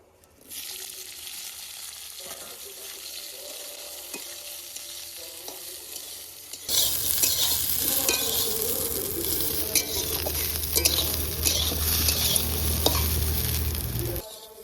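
Jujubes drop into a pan of panch phoron tempering and fry with a loud, steady sizzle, growing busier after a few seconds as they are stirred and scraped through the hot oil. No one speaks.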